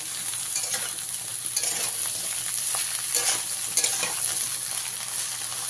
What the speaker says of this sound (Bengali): ঝিঙেটা দিয়ে খুব ভালো করে মিশিয়ে দেবো।